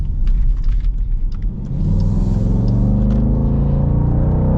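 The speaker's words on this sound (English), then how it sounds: "Ah, that Hemi. You gotta love that Hemi." A 2024 Dodge Durango R/T's Hemi V8, in sport mode, roars up close as it accelerates, a loud, steady low rumble that deepens and swells through the pull with no voices over it.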